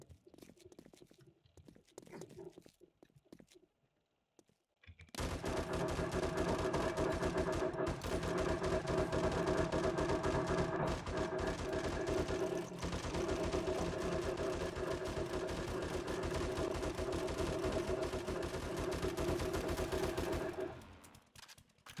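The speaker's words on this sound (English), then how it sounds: "Just augers and M60s." In the 7 Days To Die video game, a sustained, dense rattling roar of auger drilling and M60 machine gun fire runs loud and nearly unbroken for about fifteen seconds after a quiet opening, then cuts off abruptly.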